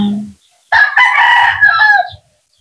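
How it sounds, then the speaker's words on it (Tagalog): Noisy farm chickens cluck briefly before a rooster lets out one loud, close crow lasting over a second. "tingnan yung mga manok guys na maingay"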